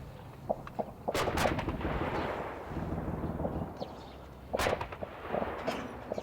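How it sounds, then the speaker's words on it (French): Distant gunfire from military firing practice near a Romanian village hosting a NATO battalion: several sharp shots and booming reports rolling out over a steady outdoor rumble, with a second cluster of shots a few seconds later. "À 9 h, les premiers tirs retentissent."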